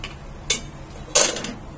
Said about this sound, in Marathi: त्यामध्ये केकचं भांडं ठेवायचंय